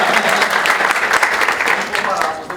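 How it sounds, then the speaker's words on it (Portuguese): An audience claps at a lecture in a loud, close burst of applause that stays steady through a short span, with a voice partly audible under the clapping. "uma salva de palmas para ele"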